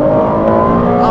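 Ferrari 296 GTB with its 830 hp engine pulling hard down a straight, a loud, steady, close engine roar with strong rising harmonics lasting the whole moment, no speech.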